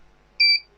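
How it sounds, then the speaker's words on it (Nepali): A single short electronic buzzer beep from the speaker of a repaired dancing cactus toy, a clear high-pitched tone lasting about a fifth of a second against near silence. "बजर मोड आयो कि आएन हेरौँ।"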